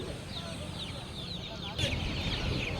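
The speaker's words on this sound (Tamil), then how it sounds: "கலர் கலராக கோழி குஞ்சு இருக்குது" Colourful chicken chicks at a busy market cheep in high, scattered peeps over a steady crowd murmur, fairly soft and continuous.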